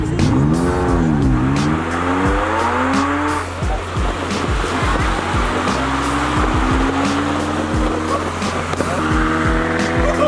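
Two Ferrari sports cars drive past at a supercar meet, their engines revving and sweeping up and down in pitch, loud and close over constant crowd and traffic noise.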